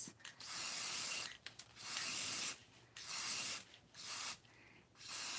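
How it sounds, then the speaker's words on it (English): Several bursts of aerosol sealer spray hiss close by onto glitter on a wine tumbler, each lasting about a second, separated by short quiet gaps. "and then I turn right around and spray it on it to actually seal it"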